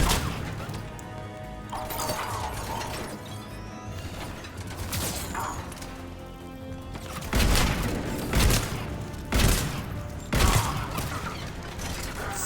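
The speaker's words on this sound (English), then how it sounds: "Sounds like a frickin' blunderbuss" Heavy, booming shots from a weapon in Mass Effect 3, likened to a blunderbuss, ring out as several loud blasts spaced about a second apart over constant battle noise and clatter.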